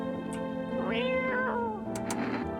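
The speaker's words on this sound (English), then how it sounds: "I hate when the cat's next to the radio." A cat meows inside a video game, a few drawn-out, wavering cries rising and falling over a steady hum of game music, close and clear with no talking.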